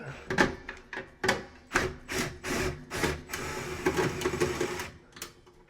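Phillips head screws are backed out of the heater section of a Broan/Nutone 655 fan heater, making a series of quiet, rhythmic rasping bursts at close range.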